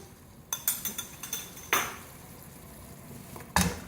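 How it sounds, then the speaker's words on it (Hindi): Metal spoon clinking against a pan as beaten yogurt is mixed into masala, a quick run of soft taps followed by two louder scraping knocks, close and quiet. "अब इसमें दही शामिल करेंगे। 4 टेबलस्पून दही है, इसको मैंने अच्छी तरह से बीट कर लिया था।"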